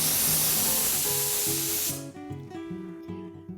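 Pressure cooker on low flame cooking green peas curry, releasing a loud continuous rush of hissing steam that stops abruptly about halfway, leaving a rattling, tonal whistle-like sputter.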